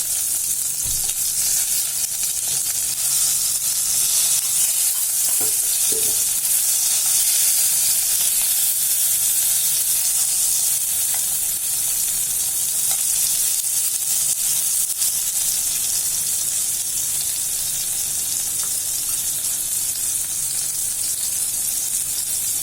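Chilies frying in a pan while garlic chutney is prepared, a steady, loud hissing sizzle that continues unbroken, with a few faint clinks of stirring and no talking.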